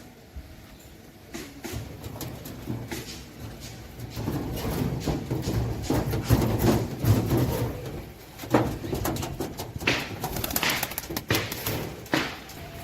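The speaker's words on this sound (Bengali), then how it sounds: "এই যে এটা হইতেছে একটা নর কবুতর," Deshi pigeons cooing in a coop, low throaty coos repeating over several seconds amid occasional thumps and taps of movement, close and moderately loud with no talking.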